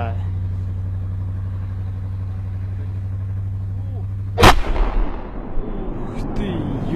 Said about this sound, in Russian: Танчик работает по сепарам.